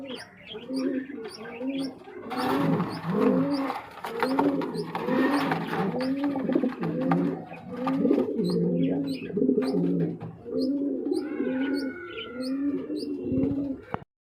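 Several domestic pigeons, including a laying pair, coo in repeated rolling phrases close by, with faint chirps and bits of background noise between the calls.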